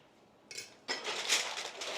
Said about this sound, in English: Now take your knife, poke a small hole at the top.